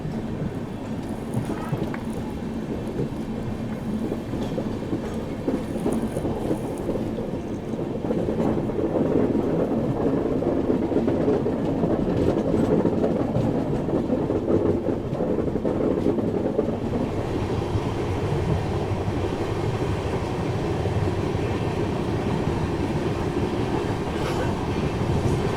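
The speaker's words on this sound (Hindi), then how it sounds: "सामने से आ रही है पुरी से चलकर हावड़ा की ओर जाने वाली शताब्दी एक्सप्रेस, पुरी हावड़ा शताब्दी।" The Puri-Howrah Shatabdi Express passes close by, a steady rumble of rail wagons with clickety-clack swelling midway and then continuing, heard from inside another train's First AC coach.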